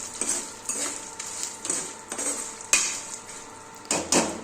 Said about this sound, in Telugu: కలిపిన తర్వాత ఎండుమిర్చి వేసుకొని ఈ విధంగా కలపండి